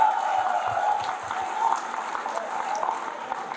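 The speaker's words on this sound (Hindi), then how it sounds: "जोरदार तालियां" Applause from a student audience at a Careerwill coaching meetup in Shamli, a steady broadband patter of many hands clapping throughout, moderately loud, with faint crowd murmur beneath.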